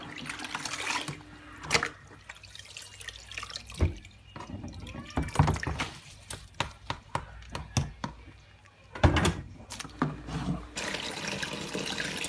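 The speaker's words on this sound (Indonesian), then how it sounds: "Nah, ini proses pencucian kedua." Sago dough is washed by hand in water for a Malay laksa, with sloshing, splashing and dripping in irregular bursts, close and moderately loud.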